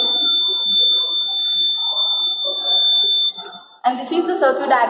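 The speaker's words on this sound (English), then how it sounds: "Basically, this was an ionization alarm." An ionization smoke alarm sounds a steady high-pitched tone under ongoing talk for about three seconds, then stops, followed by louder speech.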